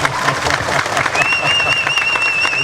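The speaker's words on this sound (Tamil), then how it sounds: "கை தட்டலாம்" Audience applause at the Thoongavanam film audio launch, a dense, loud ovation with crowd noise, joined partway through by a sustained high electronic whine like microphone feedback.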